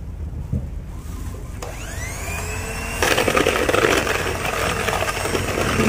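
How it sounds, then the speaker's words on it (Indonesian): An electric hand mixer beats sugar and eggs in a bowl, a steady whirring motor hum that rises in pitch as it speeds up, then grows louder and busier after a few seconds. "Kita gunakan mixer."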